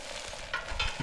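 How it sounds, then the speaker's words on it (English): Burgers sizzle on a camping grill outdoors, a steady broadband frying hiss running through the whole short moment with a couple of brief louder crackling swells, close and fairly quiet, with no talking. "Sizzle, sizzle."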